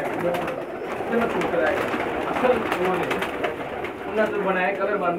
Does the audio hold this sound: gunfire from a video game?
no